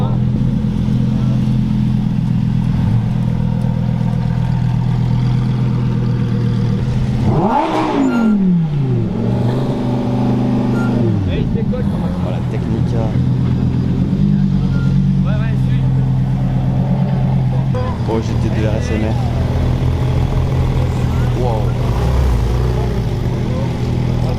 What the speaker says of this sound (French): Regardez tout ce qui arrive, il y a encore une STO au fond, une McLaren, une Porsche, GT3.